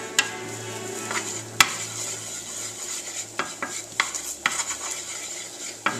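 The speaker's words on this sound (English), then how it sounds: "I'll just kind of saute the ginger here first" Ginger sautés in a pan for a stir fry, with a soft continuous sizzle broken by sharp clicks and scrapes of a utensil against the pan, close and unaccompanied by talk.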